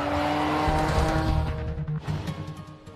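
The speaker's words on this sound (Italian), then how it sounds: "l'auto viene messa in moto per la prima volta e guidata" A Jaguar F-Pace engine, started for the first time at the assembly line, runs loudly up close, a buzzing, revving drone that eases off and becomes choppier toward the end.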